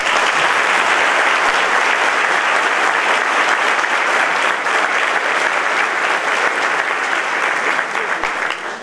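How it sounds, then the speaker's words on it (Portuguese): A large church congregation at a convention breaks into loud, sustained applause that fills the hall for the whole stretch, a dense steady wash of clapping that only begins to ease at the very end. "Aplaudimos Jesus, irmão."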